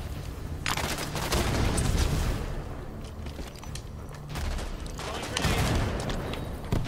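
Sustained submachine gun fire in the online shooter Halo 5: Guardians, dense bursts rolling almost continuously with a brief lull mid-clip, loud and close amid busy multiplayer combat, with voices mixed underneath.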